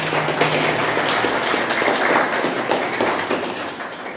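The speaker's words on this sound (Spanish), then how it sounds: "yo pido por favor varios aplausos para nuestros tres panelistas" An audience at a panel event on Cusco and migration applauds the three panelists, a dense steady clapping from many hands that tapers slightly at the end.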